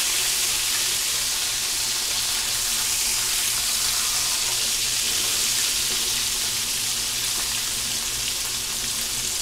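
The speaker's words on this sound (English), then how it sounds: "So I'll let these fry up, and when they're ready to turn over, I'll be back" Chicken fried steaks fry in oil with a loud, even, continuous crackle and sizzle that holds steady from start to finish, close and without talk.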